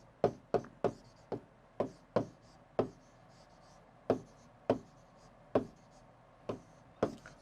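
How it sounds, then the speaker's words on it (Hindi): Chalk tapping and scratching on a board during a maths lesson, a steady series of about fourteen short, crisp strokes at uneven intervals, close and clear with no talk. "एग्जाम्पल लिखते हैं।"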